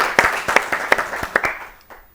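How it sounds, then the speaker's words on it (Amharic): An audience claps for a student on a children's TV quiz show: a quick, steady run of about a dozen sharp claps, fairly close, tapering off toward the end with no talk over it. "አጨብጭቡላት በደንብ"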